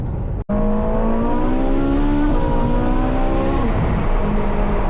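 A 2014 Ferrari 458 Spider engine heard from inside while driving, loud and steady with a strong harmonic drone that climbs and shifts as revs change, after a brief dropout at the start.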